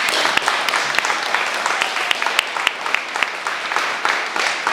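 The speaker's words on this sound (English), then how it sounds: "Can I get a big round of applause for our panel?" A crowd at a live real-estate event applauds its panel, a thick, even roar of clapping sustained throughout with a few sharper individual claps standing out.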